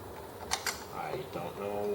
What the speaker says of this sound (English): I don't know what that noise was when I leaned on the table.